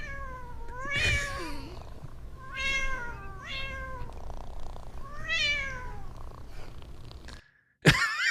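Cats in a computer-generated gym scene with a barbell full of cats meow loudly and drawn-out several times over a low rumbling background, ending with a sharp thump.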